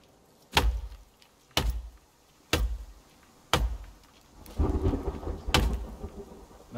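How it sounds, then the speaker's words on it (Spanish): Thunder cracks in a thunderstorm in the video game The Forest: five sharp, loud claps spaced about a second apart, each trailing a low rumble, with a steadier rain-like wash building toward the end. "No me molan nada los truenos"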